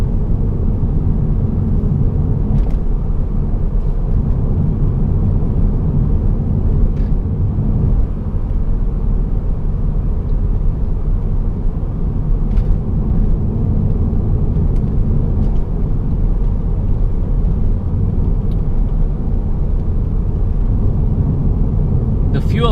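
A 2005 Mercedes CLK 320 W209 drives with a steady, loud low engine and road rumble heard from inside the cabin, continuous throughout with faint ticks on top.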